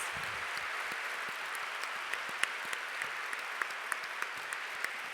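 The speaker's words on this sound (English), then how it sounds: "Let's give them another round of applause." A crowd applauds steadily, a dense even patter of clapping heard from a moderate distance.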